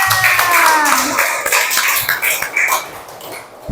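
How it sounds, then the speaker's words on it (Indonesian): A class of schoolchildren claps for a classmate, a short burst of loose, uneven handclaps mixed with chatter and a cough, fading out after a few seconds. "Tepuk tangan buat Liana."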